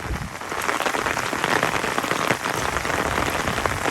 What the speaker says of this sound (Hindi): बारिश यहाँ पर बहुत तेज़ होती है